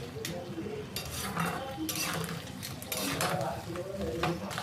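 Vegetables being stirred in a pan for a Bengali sea crab and potato curry, with repeated scraping and clinking of a spoon against the pan over a soft sizzle, steady and close.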